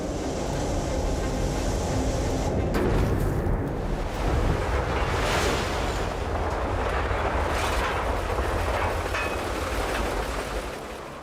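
On a ship-breaking beach, the incoming tide sends sea waves rolling and washing ashore in a continuous surf roar, with wind buffeting the microphone and no talking.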